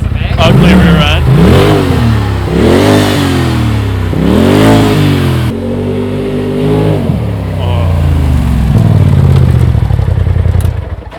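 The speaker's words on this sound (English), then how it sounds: "So that's Polaris RZR Turbo with the MBRP Powertech 4 exhaust kit on it. It sounds awesome." A Polaris RZR XP Turbo side-by-side fitted with an MBRP Powertech 4 exhaust revs hard in close, loud repeated throttle blips that rise and fall over a steady idle, ending in a sustained deep rumble.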